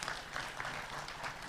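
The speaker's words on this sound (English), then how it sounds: "A round of applause, please." Audience applause at a polytechnic graduation ceremony, continuous dense clapping from a large crowd, steady and somewhat distant throughout.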